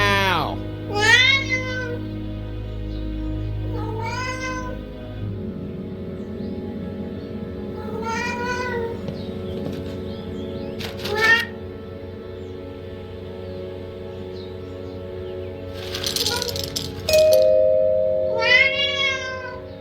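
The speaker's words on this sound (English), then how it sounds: "We want to make sure we feed our cat first." Several short meows from a cat in the Vertigo video game, scattered over a steady low hum and game background tones, with rising and falling cries standing out clearly between quieter stretches.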